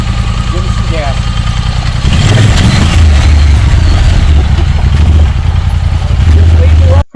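A Segway UTV side-by-side on a desert off-road trail, its engine idling loudly and close, then revving up in repeated bursts of throttle, with a person talking over parts of it.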